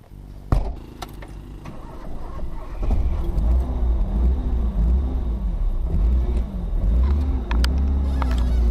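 A Toyota Corolla KE35 that sat idle for three or four years drives off, its old engine rumbling low and steady close by after a brief thump, with the drone continuing throughout.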